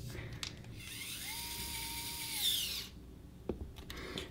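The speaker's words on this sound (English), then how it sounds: "use the included M3x6 flathead screws to secure the canopy on the frame" An electric screwdriver drives M3x6 flathead screws to fix the canopy onto a three-inch quadcopter frame. A close, steady whirring burst runs for about two seconds, followed by a short click, with no talking.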